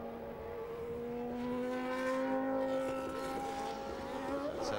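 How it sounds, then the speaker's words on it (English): A 1991 Formula One car at Silverstone during British Grand Prix qualifying, high-pitched engine note at around 280 km/h dropping in a clear falling whine as it brakes for Stowe Corner, close and steady with no talk. "So Ayrton Senna building up to 280 kilometres an hour, then onto the brakes for the new Stowe Corner"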